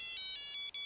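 An incoming call sets off a phone's electronic ringtone: short bright repeated chirps in a quick, even rhythm, clear and alone.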